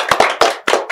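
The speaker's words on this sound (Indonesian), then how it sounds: "Tepuk tangan dong." Several people clapping on a talk-show set in a few close, loud bursts of hand claps, brief and uneven.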